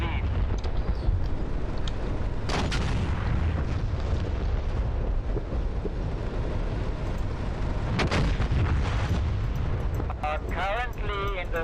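Tank cannon fire in the GHPC combat game, with heavy booming blasts over a constant loud rumble of engine and battle noise, and a voice speaking near the end.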